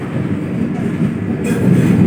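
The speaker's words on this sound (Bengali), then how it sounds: "এখন আমাদের ট্রেন ছেড়ে দিল তার পরবর্তী স্টপেজ রামপুরহাট যাওয়ার উদ্দেশ্যে" A train pulling out of a station rolls along with a low steady rumble that grows slightly louder, heard from inside a carriage, no talking.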